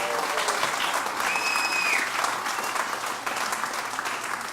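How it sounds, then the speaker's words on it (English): A club crowd at Eddie Owen Presents applauds the sound engineer, sustained loud clapping from many hands with a faint tonal whistle or feedback line briefly showing through partway. "Can we give a big round of applause to Shalom up there?"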